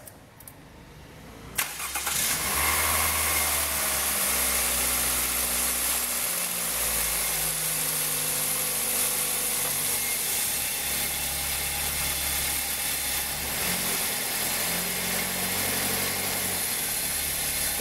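Cold start of a Toyota Corolla: a sharp crank-and-catch burst, then a steady, loud engine idle with a low rumble running on close by, no talking over it.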